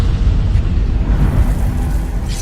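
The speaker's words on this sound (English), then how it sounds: "That bloodstone explosion seemed to trigger some sort of magical echo." A bloodstone explosion in Guild Wars 2 rumbles as a deep, heavy boom that rolls and churns loudly through the whole moment, with no voices over it.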